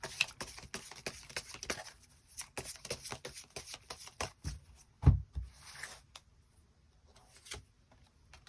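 Tarot cards are shuffled and drawn by hand: a run of soft riffling flicks and slaps, close and fairly quiet, with one sharper card snap midway and sparser taps toward the end.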